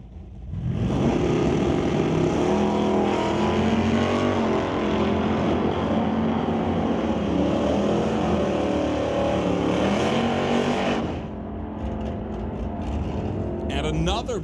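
Drag race cars launching side by side, a Nova against a Monte Carlo, roar loudly and steadily for about ten seconds at a bracket race, then fade as they pull away.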